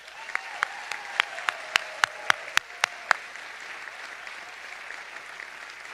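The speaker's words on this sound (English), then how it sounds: "Please join me in a round of applause for them." Applause for honored educators at a school board meeting comes through as a sparse, evenly spaced run of about a dozen distinct claps, fairly faint, before fading out.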